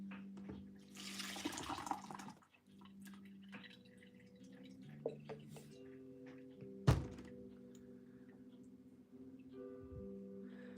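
A small cut rock rinsed under a running tap, with a steady stream of water and a few sharp knocks and clunks as the stone is handled in the sink. Soft voices talk in the background.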